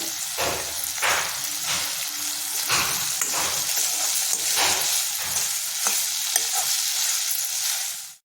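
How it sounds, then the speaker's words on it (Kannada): Paneer cubes are stirred and fried with softened tomato in a pan for onion-free palak paneer. A steady loud sizzle runs under repeated scraping strokes of a spatula throughout, and there is no speech. "ಇದಕ್ಕೆ ಹೆಚ್ಚಿಟ್ಕೊಂಡಿರೋ ಪನ್ನೀರ್ ಹಾಕ್ಕೊಂಡು ಹುರ್ಕೊಳ್ಳೋಣ ಒಂದು ಸುತ್ತು"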